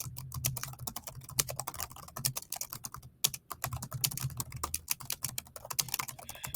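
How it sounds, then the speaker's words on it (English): Rapid close keystrokes clatter on a computer keyboard while typing in Google Docs, an irregular stream of sharp clicks with a brief pause midway and no talk. "Now, I'm going to type the first one for you so you can see it."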